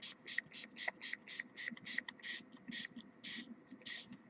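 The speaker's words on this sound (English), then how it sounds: "And then I'll spray a little here." Repeated short bursts of spray mist from a handheld bottle onto paper while making holiday tags, about a dozen quick hissing puffs in an uneven rhythm, close and fairly quiet over a soft low background.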